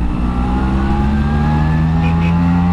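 A Vespa Sprint scooter revs hard while overtaking a bus, a loud, close engine roar holding a steady rising pitch, with no voices.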